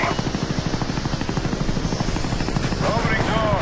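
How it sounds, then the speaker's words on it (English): A Huey helicopter in the Call of Duty Black Ops video game thumps with a fast, steady rotor chop, loud and continuous, with game sounds over it. "Huey on the way."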